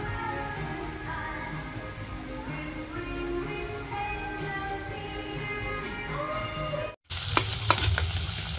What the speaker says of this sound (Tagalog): Ginisa ang bawang at sibuyas.